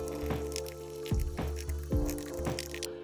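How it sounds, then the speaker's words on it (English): A cheap projector runs loudly with a steady cooling-fan hum and whine, punctuated by intermittent thumps and clicky handling noises close to the mic. "Now this projector is on the loud side"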